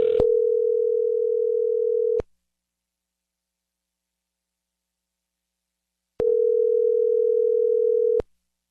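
A telephone line ringing after dialing out: two long steady ring tones, each about two seconds, separated by roughly four seconds of silence, clear and alone.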